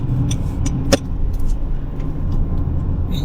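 Road traffic passes a moving car on a busy road in Canada, with a steady close engine and tyre rumble, a short sharp clatter near the middle and faint jangling above.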